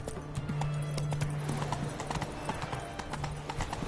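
Roach the horse's hooves clip-clop in The Witcher III, a quick steady rhythm of close hoof beats over a faint game backdrop, with a short whinny-like tone mixed in.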